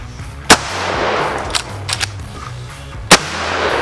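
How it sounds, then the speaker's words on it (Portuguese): Gunfire during tactical shooting training at a target dummy: three sharp, loud single shots spaced irregularly over a low background rumble with faint movement noise, no voices. "o Pacho acabou com a munição do cara e ele não acertou o boneco ainda"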